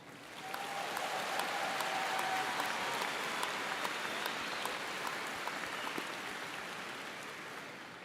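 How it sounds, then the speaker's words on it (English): A large commencement crowd at the University of South Florida Fall 2023 ceremony applauds the graduating fall class. The clapping is dense and continuous, swelling early and holding steady with a slightly distant, hall-like spread. "let's get a round of applause to our 2023 fall class"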